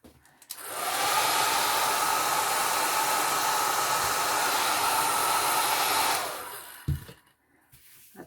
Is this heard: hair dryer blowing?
yes